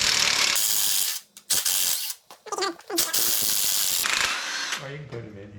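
Ratchet working loose the cylinder heads on a badly seized Chevrolet 283 V8 from a '55 wagon, loud close clicking in bursts broken by short pauses, with people talking in a garage.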